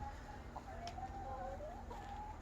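Backyard chickens clucking softly over a low background rumble, a few short calls rising and falling, not very close.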